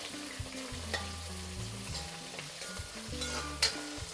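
Chopped sambar onions sizzle in hot oil with mustard seeds and curry leaves for a Kerala thoran, a soft, continuous frying crackle broken by scraping stirs of a spoon in the pan.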